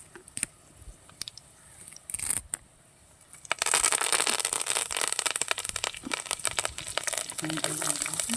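Mustard seeds, dried chilies and curry leaves hit hot oil, first a few scattered pops and clicks, then a sudden loud, steady sizzling crackle that carries on close by until the end.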